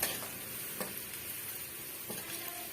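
Chili powder masala for egg bonda fries on medium heat in a pan, giving a steady, fairly quiet sizzle with a few faint ticks of stirring throughout.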